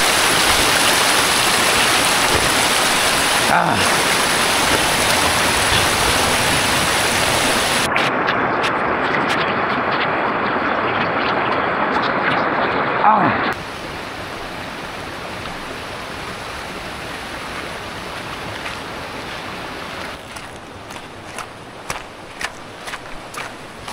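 Seawater rushes and flows in a steady broad wash, loud and close, then drops to a quieter, softer flow partway through, with no talking.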